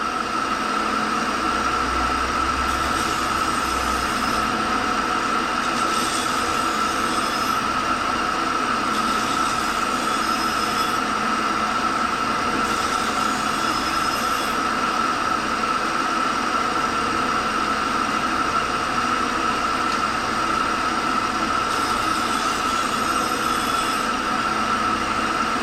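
A tool and cutter grinder sharpens the edge of an internal scraper, a steady motor whine with a constant tone running the whole time. The grinding contact rises and falls faintly in periodic bursts.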